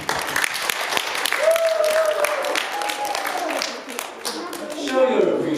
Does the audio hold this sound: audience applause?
yes